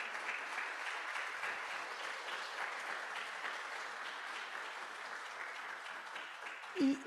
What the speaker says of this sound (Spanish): les pido un fuerte aplauso para él